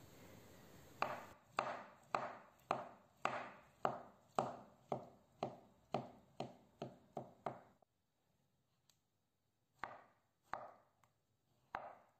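Knife chopping cooked beetroot into small cubes on a board, a steady run of about a dozen crisp, evenly spaced thuds close up, then a pause and a few more chops.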